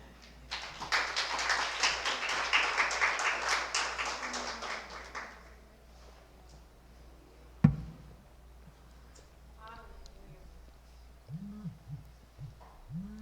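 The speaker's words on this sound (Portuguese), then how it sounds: "Aplauda, Senhor." A church congregation at a revival service claps together for a few seconds, a lively burst of many hands that fades away, followed by a single sharp knock and quiet murmuring.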